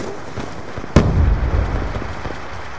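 A frag grenade detonates in Black Ops 2 search and destroy on Wii U: one sharp, loud blast followed by a rumbling low tail, over steady game background noise.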